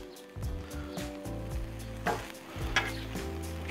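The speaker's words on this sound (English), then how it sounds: "Give our sauerkraut a little turn." Sauerkraut sizzles and fries on a Blackstone griddle beside corned beef for a Reuben sandwich, a steady close crackle with a few scraping stirs from a spatula.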